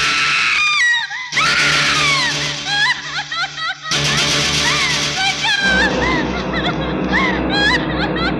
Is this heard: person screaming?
yes